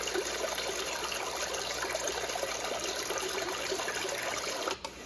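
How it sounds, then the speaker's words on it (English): Continuous trickling, bubbling water like a small brook from a white noise sound machine's Brook setting runs steadily at moderate volume, with a brief click near the end. "Then there's Brook."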